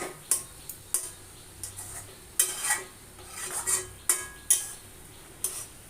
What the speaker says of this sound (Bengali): এবার এইভাবে করে উল্টিয়ে পাল্টিয়ে দিচ্ছি